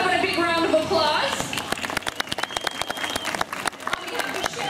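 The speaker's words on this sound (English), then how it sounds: "As one last thank you to Spin, Hannah, and Helen, how about a big round of applause?" An audience applauds at an aquarium dolphin show. Mixed noise opens the clip, then sharp separate claps and some cheering follow, fairly close and irregular.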